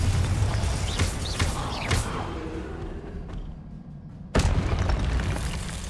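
A Confringo fire spell in Hogwarts Legacy sets off deep booming blasts, several heavy explosions close together at first, then a quieter lull, then one sharp sudden burst near the end.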